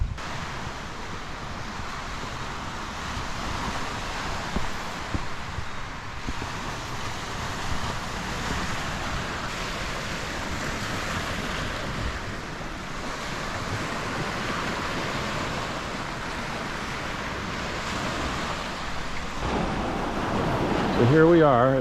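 Lake Michigan waves wash onto the beach at Pier Cove, a continuous soft surf roar with wind buffeting the microphone, steady and moderately distant throughout.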